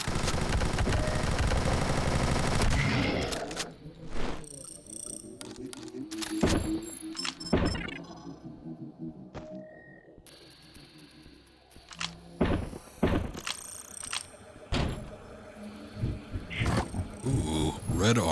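Gunfire and heavy impacts from the retro-style shooter game Zortch, with loud bursts of shots and thuds that come in clusters, separated by quieter stretches of game ambience.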